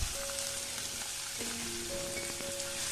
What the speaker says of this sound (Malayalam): സവാള ഇട്ട് നന്നായിട്ടൊന്ന് ഇളക്കി കൊടുക്കാം